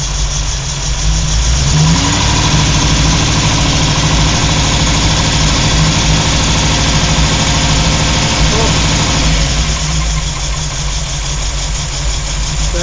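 A vehicle engine runs loud and close as it is driven, a continuous dense rumble that swells slightly and then eases off, with speech faintly mixed in.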